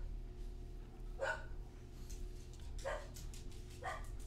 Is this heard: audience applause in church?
no